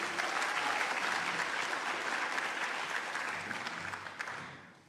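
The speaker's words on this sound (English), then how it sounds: "Round of applause, you two." Steady, full applause from an audience at a volunteer recognition awards ceremony in Greater Shepparton, broad continuous clapping that slowly fades and dies away at the end.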